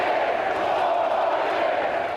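A large, mostly unmasked crowd of supporters at a Trump campaign rally in New Hampshire, giving off a steady, loud roar of massed voices and cheering that holds without a break.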